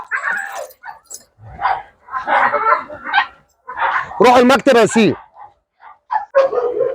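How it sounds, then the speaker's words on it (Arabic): A dog barks in a short, loud burst of several rapid yaps in the middle of the clip, close by, while someone talks in Arabic before and after it. "الكلب ده بيجر شكل"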